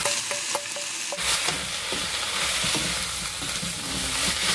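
Stir-fried bamboo shoots, soy protein and oyster mushrooms tossed in a pan for bamboo shoot japchae, a steady close sizzle with quick clattering spatula scrapes at first, then continuous frying.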